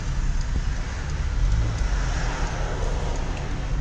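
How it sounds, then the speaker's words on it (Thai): A modified Volvo S70 idles steadily on an LPG gas system, a continuous low engine rumble close by with no other sounds. "เครื่องยนต์ทำงานด้วยระบบแก๊สอยู่นะฮะไม่ใช่เป็น ระบบน้ำมันนะฮะ"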